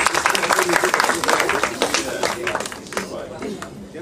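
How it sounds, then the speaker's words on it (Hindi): Audience applause breaks out at a film teaser launch event, a burst of dense clapping that gradually thins out, with voices and crowd chatter mixed in. "एक बार जोरदार तालियां हो जाए।"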